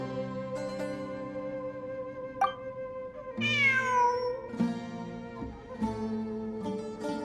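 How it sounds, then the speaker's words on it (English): A cat meows several times in the video game Genshin Impact, with clear, drawn-out cries rising and falling over soft, sustained background music and chimes. "I'm not hearing things. It really is a cat."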